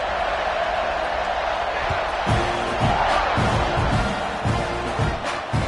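Dense stadium crowd roar at a Texas vs Texas A&M football game kickoff after halftime, a steady loud wash of cheering with bursts of whoops and thumps throughout.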